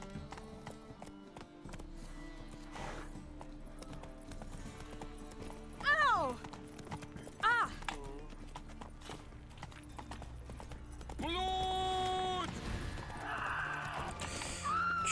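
Hooves of the horse Roach clip-clop in The Witcher video game, with game music underneath and sudden whinnies and neighs rising above; someone talks over parts of it.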